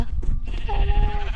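A sheep in the Minecraft video game gives a short, wavering bleat over loud, low-heavy game and room noise, with no talk.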